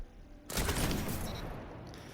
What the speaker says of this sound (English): So Chad, feel free to pull the trigger.